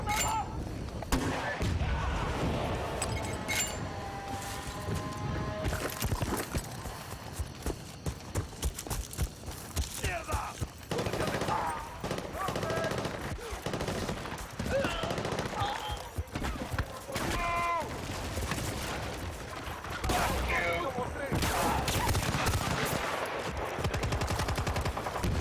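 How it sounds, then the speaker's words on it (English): Gunfire in the Bad Company 2 video game, repeated shots and bursts scattered through a busy battlefield mix with hoof-like clatter and game ambience, continuous and moderately loud. "I think they're shooting at me."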